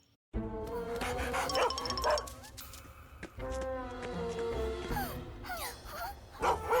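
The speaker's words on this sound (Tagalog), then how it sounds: "Isang aso na serbisyo!" A cartoon service dog barks and yips repeatedly in short bursts, fairly close, with some whimpering tones between the barks.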